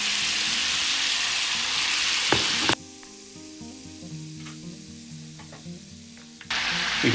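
Butter sizzling loudly in a pan heated on a grill for butter prawns with lime: a bright, crackling hiss that drops to a quieter simmer with a low hum beneath, then flares up sharply again near the end.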